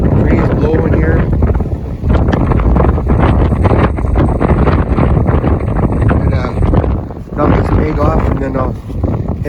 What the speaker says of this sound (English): You can see the breeze blowing here.